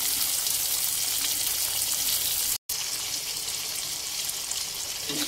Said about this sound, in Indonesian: kita goreng juga terasinya.